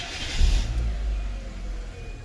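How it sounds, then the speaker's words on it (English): Hyundai i10 engine with 350,000 km on it, suffering from an engine vibration problem, catching and settling into a low, rumbling idle with a brief louder surge at the start, close and steady. "Okay, I've started the car."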